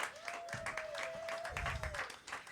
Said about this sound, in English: another round of applause for that guy